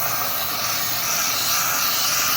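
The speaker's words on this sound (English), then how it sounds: "This is a 1200 watt steam cleaner" Handheld 1200 watt steam cleaner releasing a continuous loud hiss of steam, steady and close throughout with no pauses and no voices.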